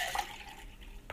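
A blended cold coffee smoothie, made with nutmeg and ice in a Vitamix, is poured into a glass, giving a short, soft liquid splash and trickle that fades quickly.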